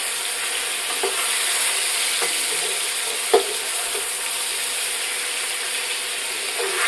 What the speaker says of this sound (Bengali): আলু আর ওলকপিটাকে ভালো করে একটু তেলে ভাজা ভাজা করে কিছুক্ষণ রাখতে হবে।